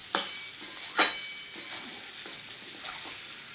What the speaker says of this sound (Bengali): এইভাবে আমি ভুটিটাকে সঙ্গে ভাজবো, হালকা ভাজবো, বেশি না।